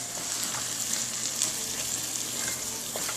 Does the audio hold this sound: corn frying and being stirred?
yes